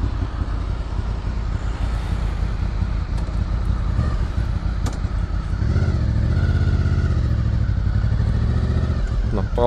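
A motorcycle fitted with a new sport exhaust idles and revs loudly up close, its throaty burble thickening and growing louder partway through, with no other sounds over it.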